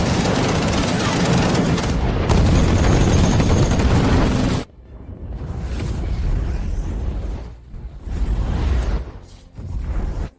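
Air defenses fire at full firepower in a dense, roaring barrage that cuts off abruptly, followed by scattered bursts, whooshes and blasts.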